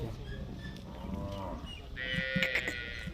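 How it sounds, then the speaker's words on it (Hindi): Domestic buffalo bull lowing in a livestock setting among goats, giving drawn-out moos with harmonic tones, one long call then a louder, higher bellow, fairly close, with faint background noise. "झोटा पला हुआ झोटा"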